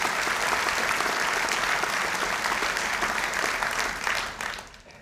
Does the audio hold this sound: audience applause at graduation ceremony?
yes